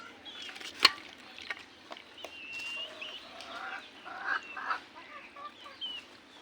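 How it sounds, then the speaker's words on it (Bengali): Chicks and hens cluck and cheep close by in a busy yard, overlapping chirps and clucks with one sharp loud call near the start and no speech. "মুরগির বাচ্চাগুলো সব আশেপাশে এসে বসে গেছে"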